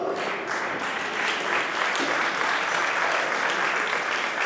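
Audience at a historical society gala breaks into sustained, dense applause, loud and even throughout with scattered cheers mixed in.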